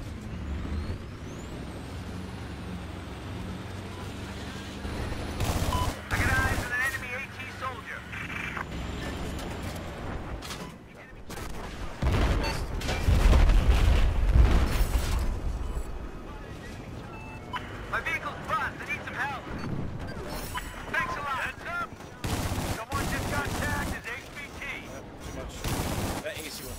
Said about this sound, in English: Heads up, there's an enemy machine gun at each of your locations.